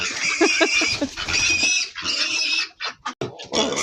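Pig squealing loudly and repeatedly on a rural farmyard, shrill cries in close bursts with short pauses between, near and alone without talk.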